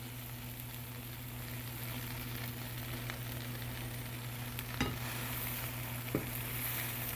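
A grilled cheese sandwich sizzles softly in a pan just after being flipped, a quiet, continuous fry over a low hum, with a couple of faint clinks from a utensil.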